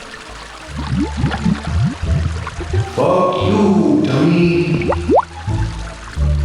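A babbling brook trickles and gurgles steadily nearby, with a sudden louder rush of flowing water in the middle, while a small voice speaks briefly over it.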